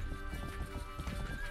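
Horse hooves clip-clopping steadily in the medieval open-world game Rustler, with a whinny mixed in, the rhythmic hoofbeats continuous and fairly close under game ambience.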